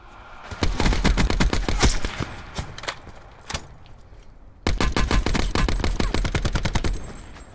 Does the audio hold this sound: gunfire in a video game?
yes